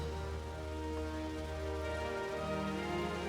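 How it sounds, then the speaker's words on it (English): Steady rain in Final Fantasy XIV, a soft continuous patter at even level beneath low tonal game music. "Can't we wait for the rain to stop before we fight Leviathan"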